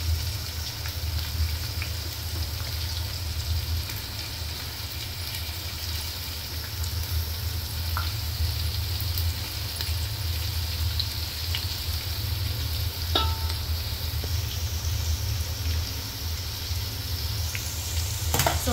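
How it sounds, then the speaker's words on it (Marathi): Finely chopped onion frying in oil with tomatoes already melted down, for a prawn biryani: a steady, even sizzle and crackle that continues alone with a few faint clicks. "आता मी टाकते चिरलेला कांदा."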